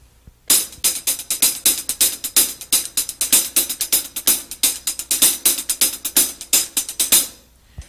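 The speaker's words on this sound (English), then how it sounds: "I'll play it on the hi-hat." Fast, steady hi-hat strokes in a continuous paradiddle sticking pattern, bright and crisp, with regular accents and no talking.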